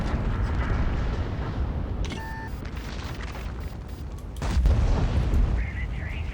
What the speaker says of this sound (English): Wow, that thing just blew it up.